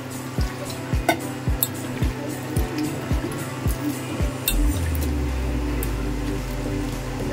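Small coconut pieces drop into a pot of melting jaggery as a quick series of about a dozen soft clinks and plops, followed by a wet, sizzling bubbling that carries on steadily.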